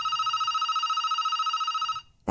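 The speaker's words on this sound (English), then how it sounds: "The house phone rings" A house telephone rings with a steady electronic warble for about two seconds, loud and close, then stops as the handset is picked up; no one speaks.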